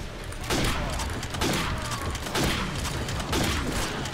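Call of Duty gunfire pops out in quick, loud, repeated bursts roughly every second over a busy game-action background.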